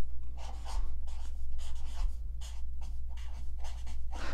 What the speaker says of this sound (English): I'm gonna write subtract.